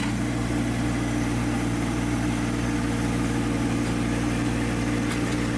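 A John Deere 1025 compact tractor's engine drones at a constant, steady level while grading a driveway with a box blade, close and continuous with no talking.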